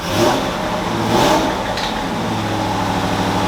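A rebuilt C5 Corvette engine revs up twice in quick succession on its first drive, loud and close, then settles toward a steady idle with no talk over it.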